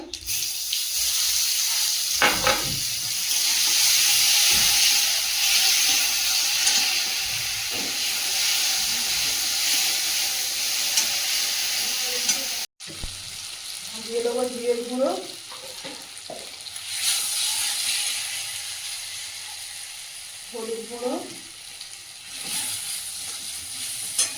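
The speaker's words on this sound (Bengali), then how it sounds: "ভাজা ভাজা হয়ে গেলে দিয়ে দেবো আদা বাটা" Ginger paste fries in hot oil with dried red chillies, bay leaf and whole cumin, a loud steady sizzle filling the clip, broken by a brief cut and occasional stirring and scraping, with a voice speaking briefly.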